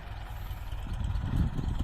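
A Ford farm tractor engine idles with a steady low rumble that swells slightly louder toward the end, heard alone without talk.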